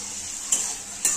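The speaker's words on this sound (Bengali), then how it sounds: "এর মধ্যে আমি টমেটো দিয়ে দেবো টমেটোটা একটু ভাজা ভাজা হবে" Tomato fries in oil with onions in a pan under a steady sizzle, while a utensil scrapes through the pan twice in quick strokes, close and without voices.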